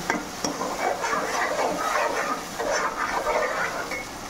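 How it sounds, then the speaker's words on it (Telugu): A coconut, ginger and garlic paste is stirred in a cooking pan, giving a steady scraping and gentle sizzle with repeated rhythmic strokes, close by and alone. "ఇప్పుడు దీన్ని బాగా కలపాలి. ఈ పచ్చి వాసన అంతా పోవాలి."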